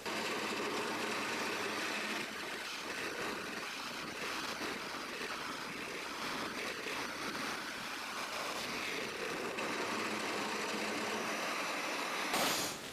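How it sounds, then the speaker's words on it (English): A drill press cuts a hole through a workpiece on a table and fence, with dust extraction running, giving a steady, fairly faint continuous whirring drone that rises briefly at the very end. "Obviously cut a nice clean hole, and in the most parts the dust extraction worked really well as well."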